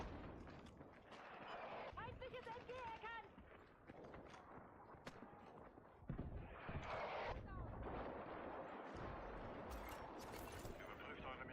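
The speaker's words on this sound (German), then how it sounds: "Artillerie." Artillery barrages in Battlefield 6: booming blasts and scattered gunfire rumble through a chaotic battlefield, with an in-game announcer voice speaking over the explosions.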